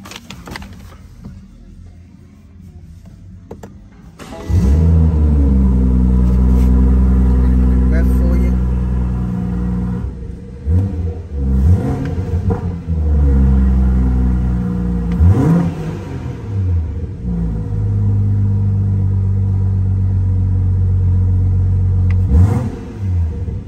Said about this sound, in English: I shall start it up for you. It does make a real nice sound.